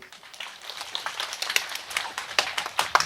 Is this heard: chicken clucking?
no